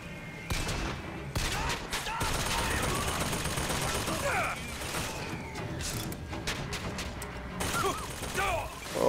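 Rapid bursts of gunfire from the video game Bioshock Infinite, sustained and busy across the clip with crashes and clatter mixed in, and a voice talking over the shooting.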